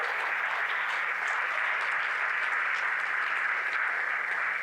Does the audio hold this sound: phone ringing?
no